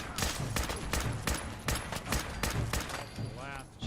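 Rapid bursts of plasma rifle fire in Fallout 4 come in quick repeated shots through most of the stretch, loud and close, with a brief synthetic whine near the end.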